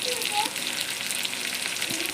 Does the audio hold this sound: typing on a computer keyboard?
no